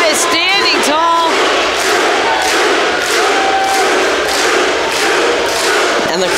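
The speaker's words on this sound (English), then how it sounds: "And the crowd is happy to see it" A wrestling crowd at a steel cage tag match roars and cheers loudly, broken by repeated ring thumps and shouts, with an announcer talking over the noise.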